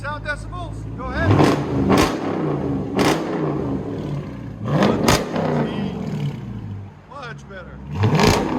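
Dodge Charger R/T, a decommissioned police interceptor with a 5.7L HEMI V8 and straight-pipe exhaust, revs up in several loud throttle blips that rise and fall between bursts of idle rumble, with people talking in the background.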